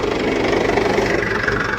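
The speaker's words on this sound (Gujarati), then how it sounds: "દાદા ને દીકરો બે જાય છે ટ્રેક્ટર લઈને" A tractor engine runs steadily close by, a loud, even mechanical chug with a low knocking throb and no talking over it.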